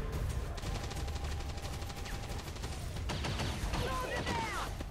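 Incoming gunfire in XCOM 2 Long War 2, with a rapid burst of repeated shots and some mechanical clatter over a steady battle din. Shooting resumes briefly near the end.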